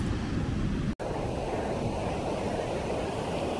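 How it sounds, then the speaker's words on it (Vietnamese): Big waves on a rough sea at a red-flag beach, a constant loud roar of surf mixed with wind buffeting the microphone, with one very brief dropout near the start. "sóng lớn, biển động các bạn ơi."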